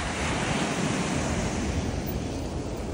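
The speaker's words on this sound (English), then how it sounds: "especially when the waves are going" Ocean waves surge along a coastal path in a loud, continuous roar of surf, mixed with wind buffeting the microphone, dense and steady throughout with no voices.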